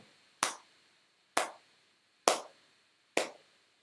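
Four crisp hand claps ring out alone at an even, slightly uneven-feeling pulse, each sharp and close with a short decay into quiet.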